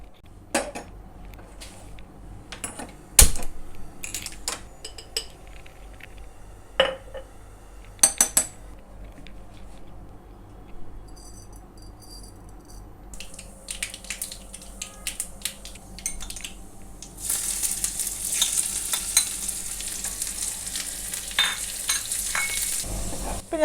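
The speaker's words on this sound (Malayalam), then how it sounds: "ഞാൻ ഈ കടുക് വറുക്കുന്നത് അല്പം നെയ്യിലാണ്." Mustard seeds fry in ghee in a pan, scattered sharp pops and crackles that build into a dense, steady hiss and sizzle over the last few seconds, with occasional clinks of a utensil.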